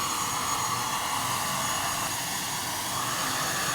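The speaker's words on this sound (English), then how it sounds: "So this is an ATR 72-500 and seats 72 passengers in a 2+2 configuration." An ATR 72-500 turboprop airliner sits at the gate, giving off a steady, loud broadband roar and whine that holds without change, with no voices over it.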